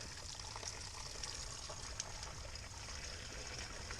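Water pouring steadily from the outlet of a ram pump set up to feed a raised bed garden, a continuous close trickling splash with no talk.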